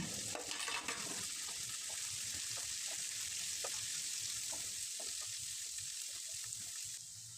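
Mixed vegetables for chicken fried rice fry in a pan with a steady, bright sizzle throughout, dotted with soft clicks and scrapes of stirring, close and continuous without talk.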